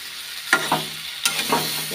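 Soybean chunks, potato and peas stirred in a pan with a few brief scraping strokes over a low sizzle, two clusters of scrapes close by with no talking.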